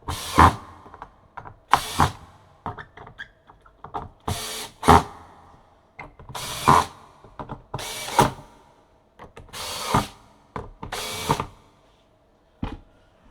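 Small screws are tightened on a 1970 vintage Ludwig Green Sparkle drum kit, producing a series of short, close ratcheting bursts at roughly one-second intervals with brief pauses between turns.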